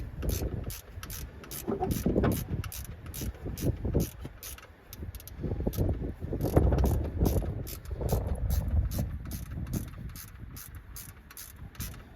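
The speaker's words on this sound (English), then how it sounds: "now tighten up the screw" A ratchet tightens a screw during work on a Mazda MX-5, making a steady run of close, crisp clicks over a low rumbling background.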